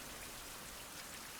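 Steady rain falls in a survival video game, a faint, even hiss of dense droplets with no break and no other sounds.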